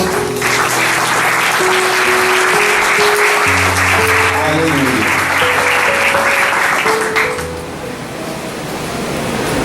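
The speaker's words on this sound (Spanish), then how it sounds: "Den una fuerte aplauso al Señor." A church congregation claps loudly and continuously, a dense sustained applause lasting several seconds before tapering off, with a soft keyboard or organ chord sustained beneath.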